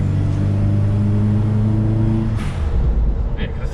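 Turbocharged Suzuki Vitara pulling hard in second gear, a steady loud engine drone from inside the cabin that shifts pitch partway through, with road rumble underneath.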